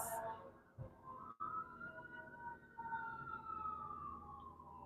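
A wailing siren slowly sweeps in pitch over steady background traffic rumble, fairly distant, with a brief thump near the start.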